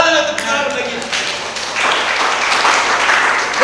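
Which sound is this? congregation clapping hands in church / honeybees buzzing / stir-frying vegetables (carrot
congregation clapping hands in church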